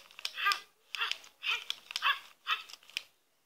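A Furby Boom electronic toy makes a string of about six short, chirpy munching bursts in a quick, uneven rhythm, close by and fairly quiet, with no talking.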